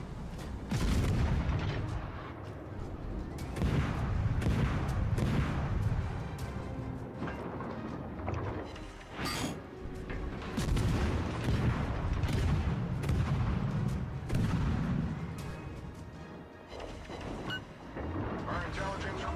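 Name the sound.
warship artillery fire in the video game World of Warships: Legends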